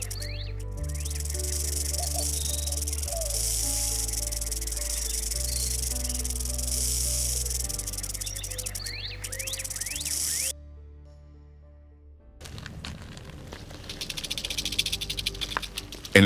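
A rattlesnake in a dry, windswept desert of the American southwest shakes its tail in a continuous hissing buzz that runs under music, breaks off briefly, then returns.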